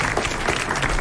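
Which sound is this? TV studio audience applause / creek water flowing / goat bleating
TV studio audience applause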